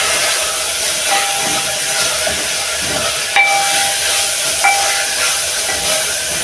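Liver sizzles in a pan as soy sauce and mixed spice go in, a steady loud hiss throughout with a couple of brief clinks midway.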